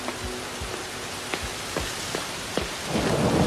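Steady rain pours down with several deep rumbles of thunder in the game Medusa's Labyrinth, then the rain swells louder toward the end; no talking.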